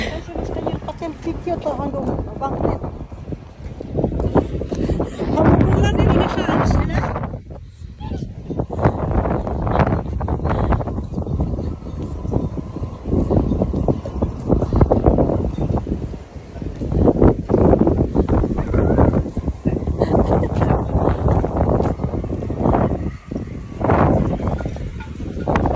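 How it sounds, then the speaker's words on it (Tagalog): Strong typhoon wind roars and buffets the microphone continuously, loud and close, while people talk over it. "super lakas talaga ng hangin"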